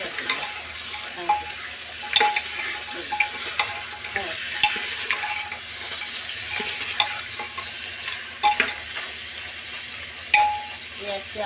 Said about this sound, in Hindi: मसाले में मिक्स कर देंगे, अच्छी तरह से चलाएंगे और इनको मिक्स कर देंगे।